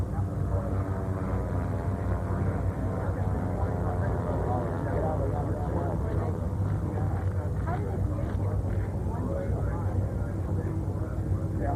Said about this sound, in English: Oshioko of Japan joins Hanno Pretner in this flying demonstration of 2 of the latest easy aircraft, the scale Hawkwolf.